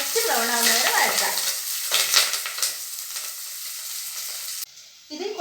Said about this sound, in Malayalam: നന്നായി വഴറ്റി ലൈറ്റ് ബ്രൗൺ ആവുന്ന വരെ വഴറ്റാം.